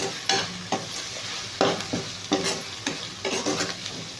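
Pounded green chillies frying and being stirred in a pan for a spiced stuffed-brinjal dum biryani, with a steady sizzle broken by several sharp scraping stir strokes, close and fairly loud with no talk.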